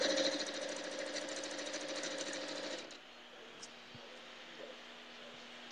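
A sewing machine hums steadily for about three seconds as quilt strips for a rail fence quilt feed through, then stops, leaving a quiet room with faint clicks.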